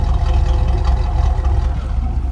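A 1987 Chevrolet Camaro IROC-Z engine idles steadily from behind the car, a loud, continuous low rumble with an even throb and no breaks.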